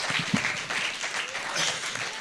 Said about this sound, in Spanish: vamos a despedir con un aplauso a nuestro autor.